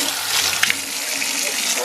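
Cold tap water gushes steadily over spoons in a sink, a close, continuous rush lasting about two seconds.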